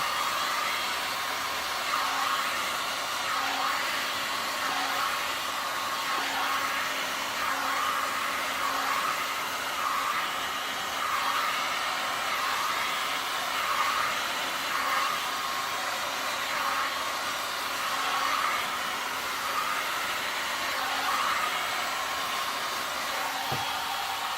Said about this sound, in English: Now, I'm going to try to blow the lines just a little bit to get some movement.